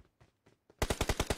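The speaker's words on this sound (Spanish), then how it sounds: "Se escucha los buenos disparos." Rapid burst of automatic gunfire in a video game, about seven sharp shots in quick succession, preceded by a few faint distant pops.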